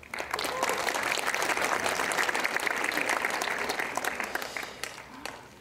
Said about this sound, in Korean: 이 박수로 환영해 주시기 바랍니다